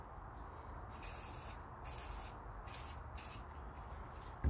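Short hissing bursts from a spray can lay a light coat of paint on EPO foam, with a few separate sprays of about a second each and quiet pauses between them.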